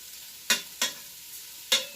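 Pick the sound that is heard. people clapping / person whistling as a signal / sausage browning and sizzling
sausage browning and sizzling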